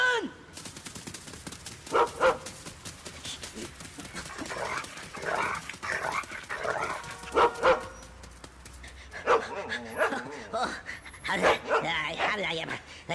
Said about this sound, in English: no one except that dog that almost bit my leg off there